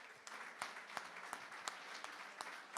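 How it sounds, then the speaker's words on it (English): Sparse, faint clapping comes from an audience at a charity art auction, a thin scattering of hands with distinct individual claps rather than a full ovation. "I hope you will give them all a huge round of applause"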